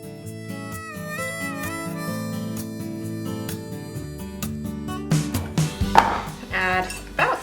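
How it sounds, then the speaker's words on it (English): Half an onion being chopped with a knife on a board in a home kitchen, a run of quick close cuts standing out in the later part over steady background music. "We're gonna chop up half an onion."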